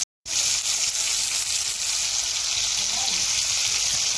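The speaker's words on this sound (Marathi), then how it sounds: "आपली कोलंबी फ्राय होत आहे" Prawns fry in hot oil in a kadhai with a loud, continuous, crackling sizzle that starts abruptly after a brief silence and holds steady, close up.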